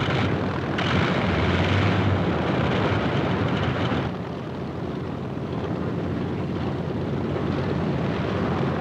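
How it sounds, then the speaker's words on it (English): Propellers of carrier aircraft roar in a loud, steady wash of engine and prop blast on a ship's deck, with no voices. "Plane handling crews buck the propeller blast as they move the aircraft into takeoff position."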